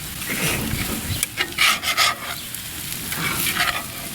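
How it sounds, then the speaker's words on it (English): Potatoes are stirred and a heavily charred steak is flipped on a grill, making close scraping and rubbing strokes of a utensil over a low sizzle. "We're gonna stir our taters again and flip over our cremated steak."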